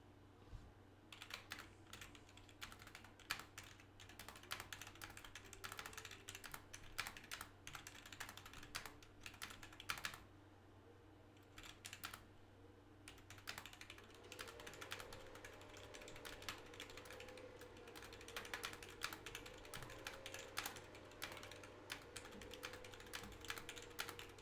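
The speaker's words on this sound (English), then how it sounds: "So I'm gonna just type it manually." A title typed on a computer keyboard, quick irregular bursts of soft key clicks close by, pausing briefly then resuming, with a faint steady hum underneath and no talk.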